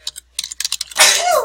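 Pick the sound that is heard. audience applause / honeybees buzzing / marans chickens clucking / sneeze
sneeze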